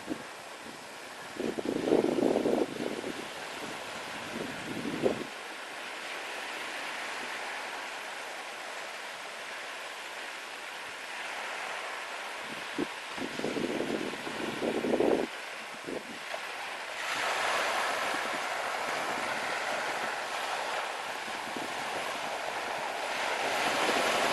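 Steady broadband roar of Baltic Sea surf and wind at a beach near Ustka, Poland, in December, with periodic swells of wave wash rising and falling over continuous gusty noise.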